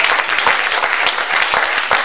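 A church audience breaks into dense, loud applause, many hands clapping in a fast, continuous patter that holds steady for about two seconds with no voices over it.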